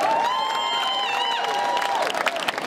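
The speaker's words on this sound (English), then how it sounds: "let's give them a big round of applause" Audience at a live science show cheers and applauds, a sustained rising whoop carrying over scattered clapping and crowd noise that keeps going throughout.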